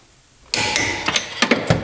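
A torque wrench tightening a coilover bolt on an R33 Nissan Skyline GT-R, a series of sharp close metallic ratchet clicks and clacks in quick bursts, no talk.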